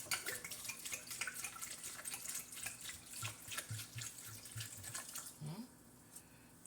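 Wine is poured into a glass in a steady, close splashing stream lasting several seconds, then the pour stops and it goes quiet near the end.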